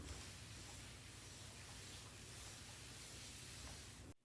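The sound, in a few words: spraying a light mist onto fabric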